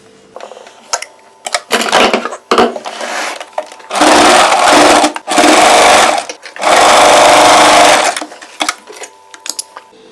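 A sewing machine stitches folded fabric for a layered frill churidar, loud close bursts of rapid whirring in several runs of one to two seconds, separated by short pauses and small clicks.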